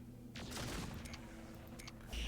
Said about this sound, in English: The auto cannons are really helping out.